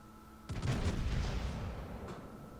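HMS Hood's main battery firing a salvo at a cruiser in World of Warships Legends: a sudden heavy boom followed by a long rumbling roll that fades slowly, with a faint second report near the end.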